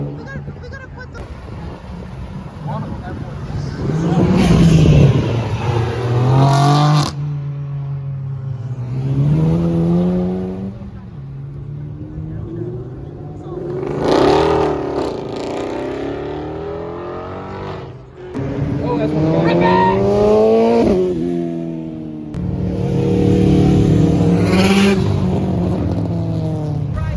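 Cars leaving a cars and coffee meet in Warwick, Rhode Island, one with an upgraded turbo, rev and accelerate past one after another, loud rising engine notes swelling and fading, with some talking between passes.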